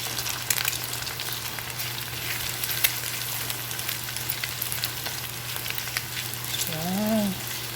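Fried rice is stirred in a frying pan over a steady, dense sizzle of hot oil, with scattered scrapes and taps of the utensil and a steady low hum beneath, and a brief voice-like tone near the end.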